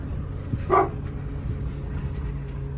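A single short dog bark, moderately distant, on a farm over a constant low rumble of background noise.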